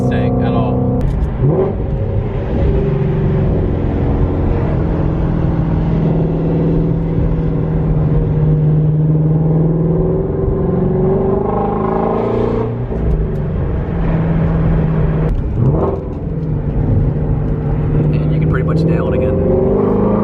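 A Ford Shelby GT350R Mustang engine revs and accelerates hard, loud and close, with rising and falling pulls as a person talks over it.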